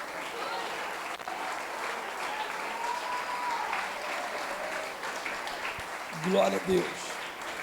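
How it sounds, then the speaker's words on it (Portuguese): A church congregation claps steadily and evenly for a long stretch, with a voice calling out briefly near the end. "aplauda o Todo-Poderoso em nome de Jesus"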